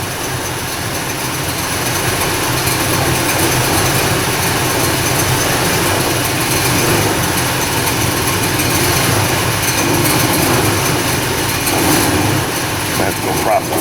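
A Chevy Colorado engine with a P0017 camshaft–crankshaft correlation fault runs rough, giving a loud, steady mechanical drone that continues without a break.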